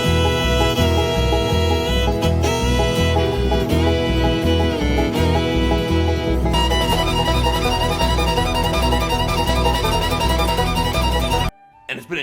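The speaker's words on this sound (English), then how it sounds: "bluegrass sounds like this." Bluegrass tune with fiddle over a steady chop rhythm, a full band sound that plays continuously and loud before cutting off abruptly near the end.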